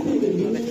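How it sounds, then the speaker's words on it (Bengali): A big racing pigeon coos nearby in one brief, low, steady call. "এই যে কবুতরটা আমি দেখাই দিলাম"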